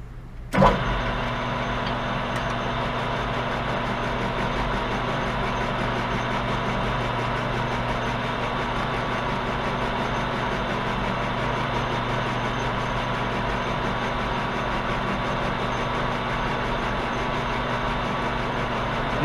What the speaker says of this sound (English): Got you set up over here at the lathe. We're just going to face this thing off,